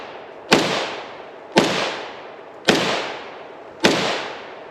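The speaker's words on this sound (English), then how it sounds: "this is just a test firing" Four evenly spaced, loud, sharp rifle shots from a JRA Italian BM59 rifle during test firing outdoors, each crack followed by a decaying echo tail, with no talk.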